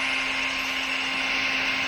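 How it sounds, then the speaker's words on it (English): A hair dryer blows a steady, even whoosh onto a grill fire, with a constant motor hum, close and unbroken. "what I'm basically doing is actually using a hair dryer to pretty much spread the fire equally"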